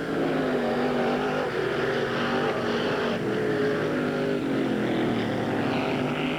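Late model and street stock cars race on a dry, dusty dirt oval, their engines droning in a steady, loud, continuous roar with a slight rise and fall as the pack circles, no voices over it.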